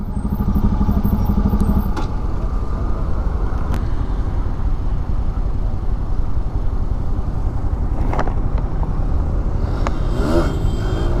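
Dense road traffic on a highway in India, heard from a motorcycle on the road: a loud, steady roar of engines and passing cars and motorbikes, with occasional horn blips and clatter throughout.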